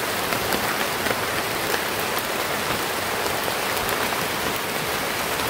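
Heavy rain falls steadily in a dense, even hiss, close and unbroken throughout, with no voices.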